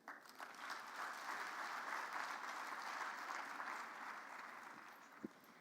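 Audience applause at a youth conference on rural communities, a steady dense wash of clapping from a crowd held at an even level and fading slightly near the end, heard from some distance.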